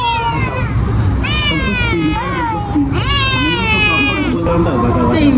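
A cat meows repeatedly at a family hangout, several rising and falling cries close to the listener over a steady hum, with people talking underneath.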